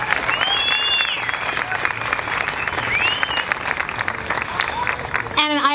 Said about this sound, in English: So let's give a round of applause to Mike.